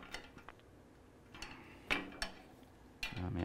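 A bracket bolt is tightened on a Sim Lab P1 sim racing cockpit, giving faint ratcheting clicks and a few sharper metallic ticks in quiet surroundings.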